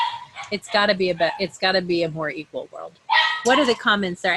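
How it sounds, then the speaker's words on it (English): A dog barks and yips in the background of a home during a live online talk, the sharp calls mixed under continuous speech. "I don't know if you can hear my dog barking in the background"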